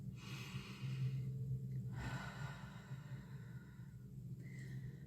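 A slow, deep breath drawn in and let out, soft and close, with a gentle sighing exhale and no talking.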